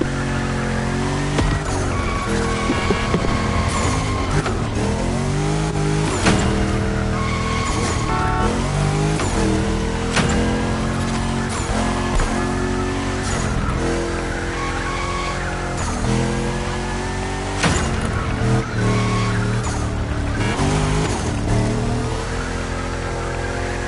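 A car drifting in The Crew Motor Fest, a loud revving engine rising and falling in pitch over long sustained tire squeal, continuous and close throughout.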